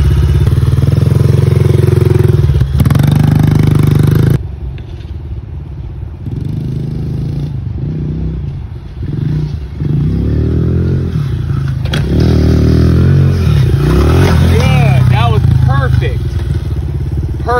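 A Honda dirt bike revving and riding over slippery jumps in the rain, its engine rising and falling close by with clattering thuds, while people talk over it.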